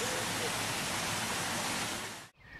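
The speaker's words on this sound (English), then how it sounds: "the tunnel came out at the sunken garden and waterfall" A waterfall in a sunken garden at Hampton Court Castle roars as a dense, steady rush of falling water, loud and continuous, then cuts off abruptly, leaving quieter background sound.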